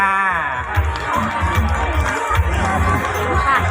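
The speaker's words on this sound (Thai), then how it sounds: "ขอเสียงปรบมือให้กับคุณยายเจริญด้วยค่ะ" A crowd at a Loy Krathong festival cheers and claps for an elderly woman, a steady mass of applause and voices with a loud announcer-style voice rising over it.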